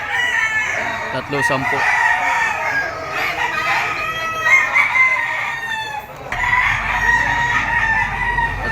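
Several bullstag gamecocks crow repeatedly, loud and overlapping in a busy yard, with someone talking over the calls.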